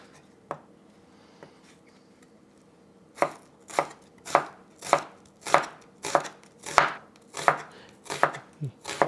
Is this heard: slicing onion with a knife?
yes